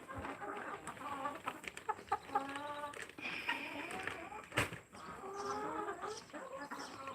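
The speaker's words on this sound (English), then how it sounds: "We got happy goats and happy chickens." Several chickens cluck and cackle nearby in quick, overlapping bursts, with a few sharper squawks rising above the chatter.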